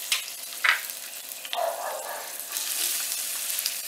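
Garlic hitting hot oil in a pan for a picadillo with beef and vegetables, a steady close sizzle with a few sharper crackling bursts, no talking.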